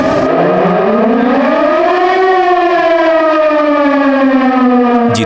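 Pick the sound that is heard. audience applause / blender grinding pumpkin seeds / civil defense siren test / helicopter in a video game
civil defense siren test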